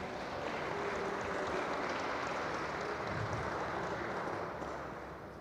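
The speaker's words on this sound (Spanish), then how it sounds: "Un aplauso, por favor, para ella." A forum audience applauds in a long, dense, steady roar of many hands, heard from a distance and fading toward the end.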